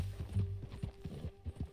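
A horse gallops in Red Dead Redemption 2 on PS5, its hooves pounding in a quick, rhythmic clip-clop with close, heavy low thuds, and no speech.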